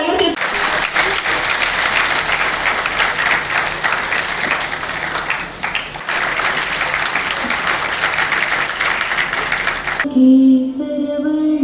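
Sustained audience applause fills a large hall as Dr. Jitendra Singh, CSIR vice president, arrives at a CSIR event, loud and steady clapping for about ten seconds before a brief quieter tail with a voice.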